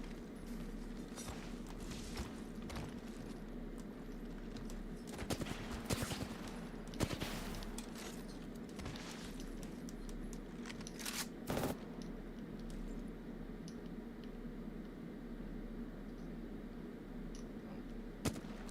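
Gunfire in a controller shooter video game: sharp single shots and short bursts pop out at scattered moments over a steady bed of game noise, with no talking.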